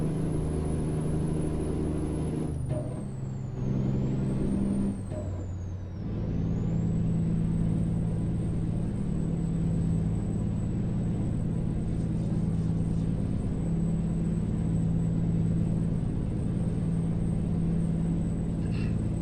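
A Kenworth K200 truck engine in the American Truck Simulator game makes a steady, deep rumbling drone. It dips briefly around gear changes with a shifting whine, then settles into a constant loud cruise, with no voices.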